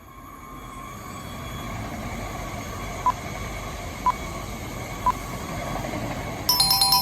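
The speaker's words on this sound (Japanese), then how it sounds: "この電車は連結している東北新幹線、やまびこと山形新幹線、翼。" A Tohoku Shinkansen Yamabiko coupled with a Yamagata Shinkansen Tsubasa arriving at a station: a low rising rumble and wheel hiss building steadily, three short evenly spaced chime tones, then a brighter announcement tone at the end.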